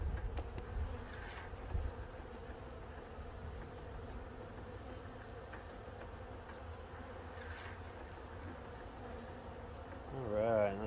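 Honeybees hum constantly around a hive during an October hive check, a dense, steady buzzing swarm close by with occasional louder passes near the end.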